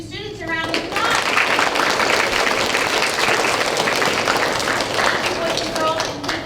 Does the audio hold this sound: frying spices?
no